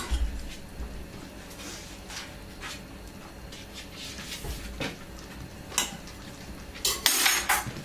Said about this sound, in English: Just get a fork and melt the butter. over the mash.